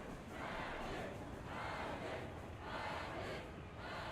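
Crowd noise fills a city in the game Ni no Kuni: Wrath of the White Witch, a dense, steady roar of many voices that swells and falls in waves.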